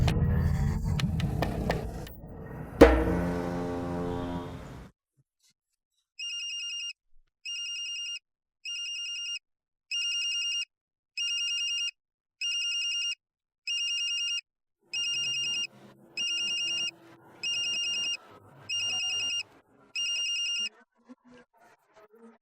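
After a burst of loud noise, a phone ringtone plays in about ten evenly spaced, bright electronic rings, with faint background sounds toward the end.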